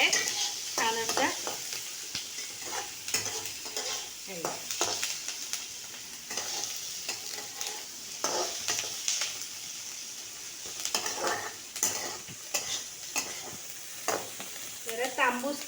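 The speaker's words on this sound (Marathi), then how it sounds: "आता आपण हा कांदा भाजून घ्यायचा आहे" Onion roasting in a pan until it turns reddish-brown: a soft, steady sizzle with intermittent stirring scrapes and clinks, moderately close and fairly quiet throughout.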